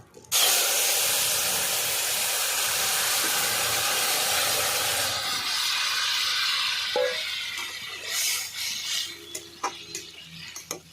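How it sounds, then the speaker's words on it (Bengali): Papaya curry tipped into a hot pan bursts into a loud, broad steaming hiss that holds strongly for several seconds, then fades into softer bubbling and a few light clinks near the end. "এবার আমি তরকারিটা আবার দিয়ে দেবো"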